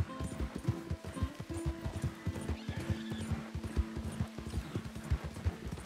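Rapid video-game hoofbeats clip-clop steadily while a horse whinnies and snorts, fairly quiet and close, in Red Dead Redemption 2.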